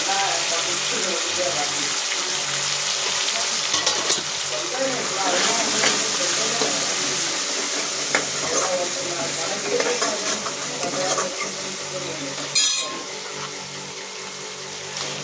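Egg masala frying in a pan while being stirred, a constant close sizzle with scraping and clinking from the spoon and a sharper clatter near the end.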